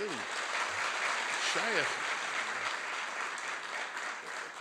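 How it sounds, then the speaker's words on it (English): An audience at a kollel dinner applauds steadily in a dense, moderately distant wash of clapping. A voice speaks briefly over it at the start. "Clap for that, really."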